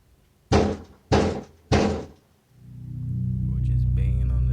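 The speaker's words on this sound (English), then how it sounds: "Or just banging on the door" Three heavy, loud bangs on a door in a slow, even rhythm, followed by a low rumbling drone building in the background.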